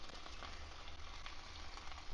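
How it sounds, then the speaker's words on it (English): Sous vide baby back ribs sizzle inside a Ninja 7-in-1 IG651 air fryer grill, giving a steady, soft, even hiss that carries through the whole stretch without pause. "It is sizzling away."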